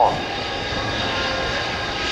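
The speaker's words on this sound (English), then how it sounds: "And we have Peter Vasher's Hawker Hurricane 1" A Hawker Hurricane Mk I flies at the Royal International Air Tattoo air show, its engine giving a steady, loud, broadband drone that holds throughout without talk.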